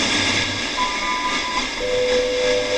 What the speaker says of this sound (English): There it is. Time signal.